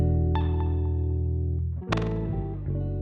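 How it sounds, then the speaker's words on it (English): A lofi hip-hop snare sample rings out with a short delay and reverb added, giving a sustained tonal tail, then a second bright hit near the end that decays into a lingering, echoing wash. "In order to make the sound less dry, we can add a delay with a very short delay time."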